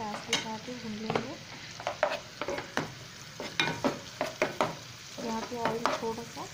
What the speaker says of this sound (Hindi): थोड़ा सा जिंजर गार्लिक पेस्ट कर दिया है, उसको भी हम पैन के साथ ही भून लेंगे